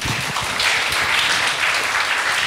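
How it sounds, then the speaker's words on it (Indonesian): Teenagers at a youth church service applaud for their camp group, a loud, lively burst of many hands clapping with uneven surges, sustained without talk throughout. "Yuk tepuk tangan nih buat camp kita yuk."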